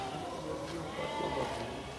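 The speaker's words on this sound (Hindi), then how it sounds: "4 दांत लगाया हुआ है ये बकरा" At a crowded goat market, a goat gives a wavering bleat over a constant hubbub of background crowd noise, with several calls blending into the din.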